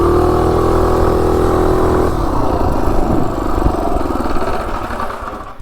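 A minibike fitted with a Predator 224 engine runs loud and close, holding a steady buzzing drone before the pitch shifts and the engine note roughens and slowly fades.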